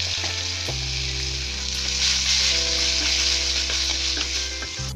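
Boiled jackfruit seeds fry in a pan with a steady, close sizzle and crackle that runs unbroken the whole time, with no talking.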